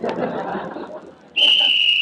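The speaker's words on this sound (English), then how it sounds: "And there's the whistle." A referee's whistle blows to start a football kickoff, a single loud, sustained shrill blast that cuts in abruptly after crowd murmur and chatter and holds steady to the end.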